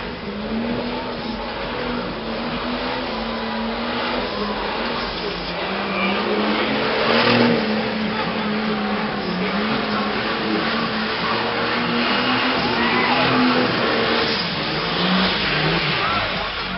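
Car engine revving hard during a tire-bursting burnout stunt at a radical maneuvers show, a sustained roaring drone with rising and falling revs, loud and continuous with crowd noise.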